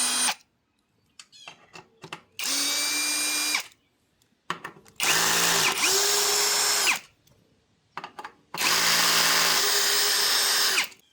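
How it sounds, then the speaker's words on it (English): Power drill backing out the four bolts that hold the controller of a Freego X2 scooter, three long loud whirring runs with short revving starts, separated by brief handling clatter and silence. "We just have to pull these 4 bolts around the corner."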